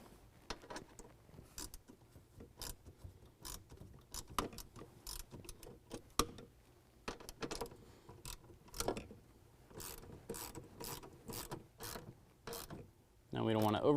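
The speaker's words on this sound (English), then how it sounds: "Now we're going to go ahead and tighten our 3 bolts up with a 10 millimeter." A 10 millimeter ratchet tightening three bolts while installing an Edge Pulsar programmer, a quiet close series of rapid clicking bursts with short pauses between strokes.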